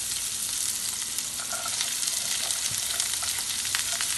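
Shrimp sautés in a pan with garlic and spring onions for egg rolls, making a loud, unbroken sizzle with scattered crackles and pops throughout, with no talking.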